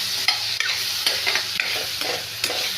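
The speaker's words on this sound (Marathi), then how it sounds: "आता याला छान फ्राय करून घेऊया." Navalgond leaves stir-fried in a pan, a steady sizzle running throughout with a few sharp scrapes and clinks of a spatula stirring, close and alone without talk.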